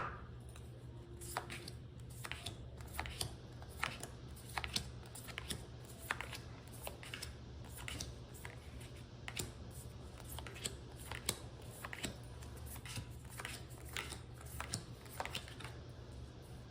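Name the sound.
spreading out plant picture cards on a table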